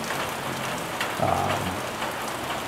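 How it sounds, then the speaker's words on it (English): Steady rain patters and hisses throughout, close and even, with a brief low rumble partway through. "Raining."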